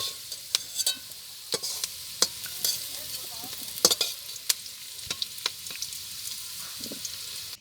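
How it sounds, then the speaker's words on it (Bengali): Cauliflower pieces fry in a pan of hot oil, with a soft continuous sizzle broken by sharp, irregular clacks and scrapes of a spatula close by. "এবার এই ফুলকপিগুলো দেবো, দিয়ে ভেজে নিচ্ছি।"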